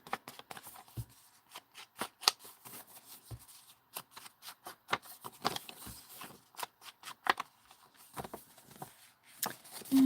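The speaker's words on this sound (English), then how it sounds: "And we fold it, make a little book." Inked paper folded into a small junk journal book, with crisp rustles and sharp crinkling snaps coming in quick, uneven bursts close up.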